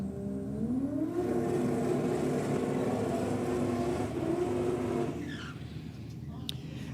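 At a night race meeting a Ford Falcon and a Holden VL race cars roar past as a loud, sustained engine note that climbs in pitch and then fades away, with a commentator talking over it.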